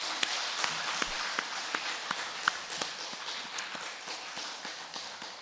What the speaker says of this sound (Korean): 한 번 더 박수하시죠.